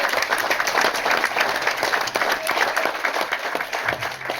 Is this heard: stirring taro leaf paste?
no